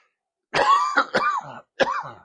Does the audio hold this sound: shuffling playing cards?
no